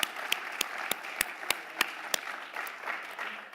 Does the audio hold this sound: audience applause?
yes